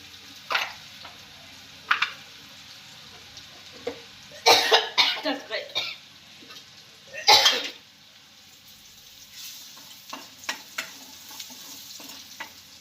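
Ground green masala paste frying for a prawn curry, a steady low sizzle broken by bursts of stirring and scraping, with a cough and a bit of speech mixed in.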